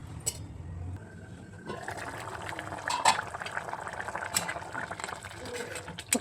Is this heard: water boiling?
yes